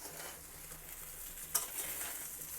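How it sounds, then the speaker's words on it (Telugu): Spiny gourd fry stirred in a pan over a low to medium flame, a steady soft sizzle under scraping strokes of the spatula, with one sharper clink partway through. "మధ్యలో ఒక్కసారి మళ్ళీ కలుపుదాము"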